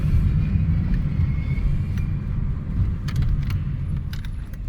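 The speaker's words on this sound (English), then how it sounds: "I'm gonna have to get over here where I can power brake it" A 2014 Ford Escape with a leaking turbo hose being power braked: a low, steady engine rumble held throughout, with a few faint metallic jingles near the end and no talking.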